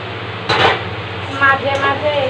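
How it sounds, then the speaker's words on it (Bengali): Jute leaves frying in a pan and being stirred, a couple of soft scraping clinks of a utensil against the pan over a low steady sizzle, with faint speech nearby. "মাঝে মাঝে এইভাবে নাড়িয়ে নেব"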